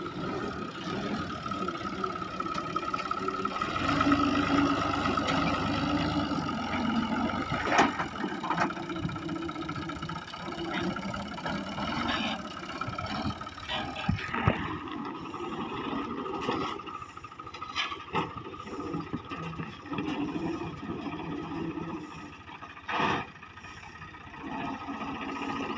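A tractor engine running steadily at low revs while a small child drives it, a continuous near chugging drone with occasional knocks and rattles, no voices.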